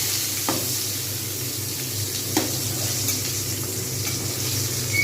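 Eggplant sizzles steadily in hot oil, with a couple of soft clicks of a utensil against the pan.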